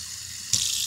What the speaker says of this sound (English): Pour your water in, and you can measure how much you want in there